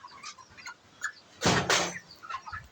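Thirty-day-old poultry chickens on a farm give off scattered, fairly faint clucks and calls, with one louder, brief burst of noise partway through.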